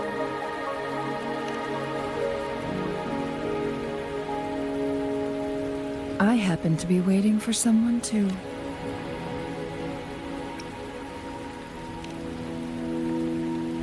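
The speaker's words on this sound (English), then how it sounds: "Are you trapped here by the rain?" Steady rain falls in the video game Wuthering Waves, a constant soft hiss with a low tonal hum beneath, while a voice speaks briefly midway through the downpour.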